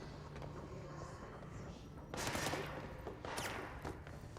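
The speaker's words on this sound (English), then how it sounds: "He's shooting at me." An enemy fires a gun in the video game Control, two loud bursts of rapid shots cutting through a quiet, humming game ambience, the second burst slightly shorter than the first.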